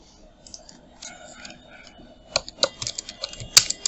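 A computer keyboard clicks under faint background chatter at first, then sharper, louder keystrokes come in an irregular burst toward the end.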